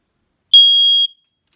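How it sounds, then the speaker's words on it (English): A Family Guard FD200 ionization smoke alarm gives one loud, piercing high-pitched beep of about half a second during a test, close by, with silence before and after. "Family Guard FD200s. I'll test one because these ones are loud."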